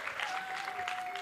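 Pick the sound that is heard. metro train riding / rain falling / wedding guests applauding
wedding guests applauding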